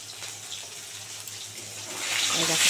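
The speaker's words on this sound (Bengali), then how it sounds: "পিঠ ভাজা হয়ে গেছে, উল্টে দেবো।" Bhola fish frying in oil just after being flipped, a close, hissing sizzle that swells louder toward the end, with no talking.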